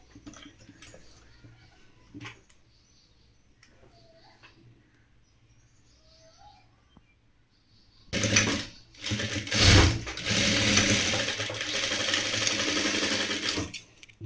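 A sewing machine stitches the neckline of a maxi dress in a loud, steady run over the last third, after a quiet stretch of faint handling noises.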